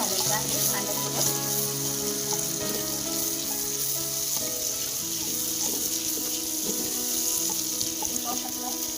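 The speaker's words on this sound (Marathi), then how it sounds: "मिरची पण आपल्याला छानपैकी भाजायचं आहे कांद्यासोबत" Onion, tomato and green chillies fry in a pan for chicken biryani, giving a steady, close sizzle with faint clinks and stirring throughout, no voices over it.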